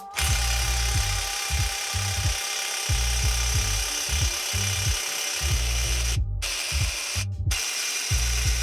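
A low-torque, cheap impact wrench hammers in repeated short bursts during work on a Dana 60 axle, close and loud, with brief pauses between the rattling pulses and a couple of sharp cut-offs.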